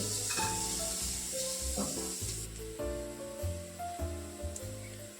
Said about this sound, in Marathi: कांदा मी इथं परतायला टाकलाय त्यात आपण चिमूटभर मीठ घालणार आहे